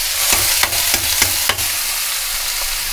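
Curry leaves drop into hot oil in a pan and fry, a steady close sizzle with a few sharp crackling bursts and stirring scrapes near the start, then even frying.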